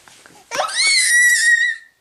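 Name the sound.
baby's little shrieks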